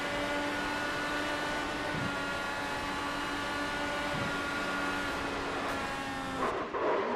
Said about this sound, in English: Listen on board. This is from the driver coming in Jasper.